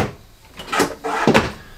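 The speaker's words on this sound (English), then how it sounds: "Drawers here below." A kitchen drawer below the counter in a 2022 Jayco Whitehawk 27RB travel trailer is slid open and shut, giving two close, short sliding thumps with no talking.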